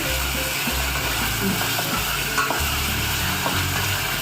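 Chicken pieces stir-fried in a pan, with a loud continuous sizzle and repeated scraping, clattering strokes of a utensil against the pan.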